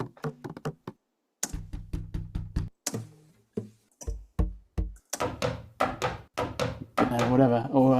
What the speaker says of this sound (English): Or I'll knock on the table.